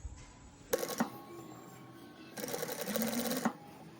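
A sewing machine stitches along the folded fabric of a gown in two bursts of rapid, even clatter, the second longer, separated by a short quiet pause and heard up close.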